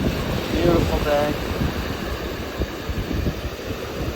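Ocean waves rolling onto a beach on a hot, breezy day, a steady wash of surf with gusty wind noise over the microphone and a brief voice early on.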